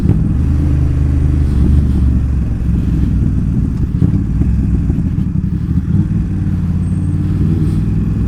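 A BMW F900R motorcycle rides steadily, its engine loud and close as it upshifts with the quickshifter. The low engine drone and wind roar run continuously with no clear break, and no one talks.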